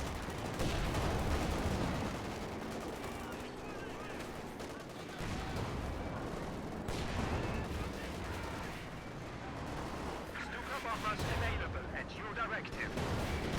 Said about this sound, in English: You see the strafing support used.